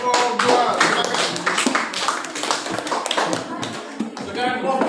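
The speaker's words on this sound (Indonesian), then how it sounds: "Oke, tepuk tangan untuk kelompok 2." A class applauds a student group after its presentation, with brisk, dense clapping from many hands close by throughout and voices over it.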